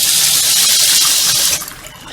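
Hot water from a tankless water heater gushing from a tap, a loud steady rushing stream that suddenly drops off to a quieter trickle near the end.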